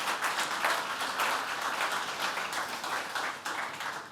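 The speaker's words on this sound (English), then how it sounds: "give him one more round of applause" A conference audience at a PyData Amsterdam talk applauds steadily and fairly loudly for the full length, a dense wash of clapping with no talk over it.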